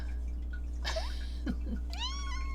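Indoor house cat meowing twice, a short mew followed by a longer rising meow, close and clear over a low steady hum.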